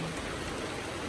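Heavy rain pours down on a private cemetery in Laguna in a continuous loud hiss, dense drops drumming close by with no pause.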